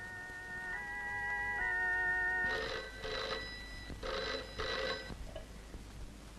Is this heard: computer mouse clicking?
no